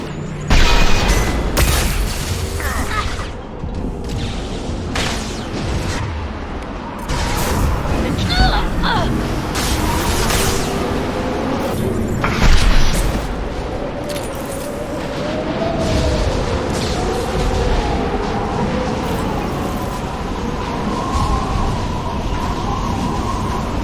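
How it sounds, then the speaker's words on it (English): A flashbang blast and gunfire in the video game Mass Effect 2 ring out amid loud, dense combat noise, with a sharp burst standing out partway through. Voices speak over the fighting. "Watch out, flashbang!"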